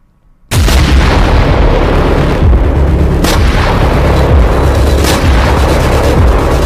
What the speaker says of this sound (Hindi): गाजा की सड़कें नेतन्याहू के धमाके से दहल रही हैं